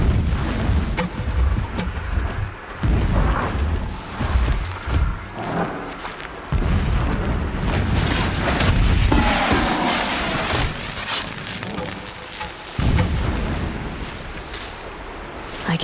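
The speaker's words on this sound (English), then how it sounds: "Explosions in the distance." Distant explosions: repeated heavy booms and thuds, several rumbling blasts with cracking, layered over a constant loud background din for about sixteen seconds, with no talk.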